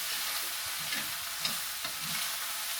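Green chili, tomatoes and onions caramelizing in a pan for giant nachos give off a steady, close, broadband sizzle, with a few soft stirring scrapes and no voices.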